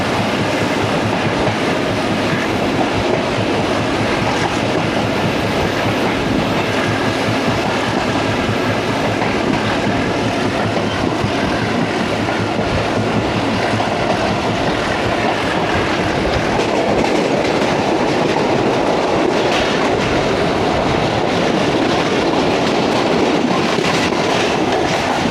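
A 228DN shuttle train runs from Multan Cantt toward Kot Addu Junction on a morning branch line, with a steady loud rumble and rhythmic clickety-clack of wheels on rails throughout, heard from inside with no talk.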